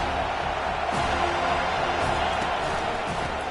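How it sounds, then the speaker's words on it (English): Loud continuous crowd roar in a college football video game on third down, a dense wash of cheering with little variation across the short stretch. "Decibels rising as the crowd gets behind this defense on third down."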